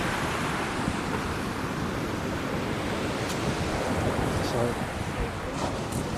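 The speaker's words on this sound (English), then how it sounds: "That's absolute crazy wind." Strong wind at a beach roars steadily and loudly, buffeting the microphone, with crashing surf and waves churning beneath it throughout.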